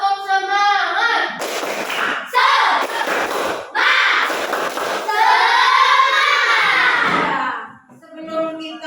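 Schoolchildren in a classroom chant the tepuk semangat together, with loud group shouting over rhythmic claps and thumps, and a teacher's voice before and after.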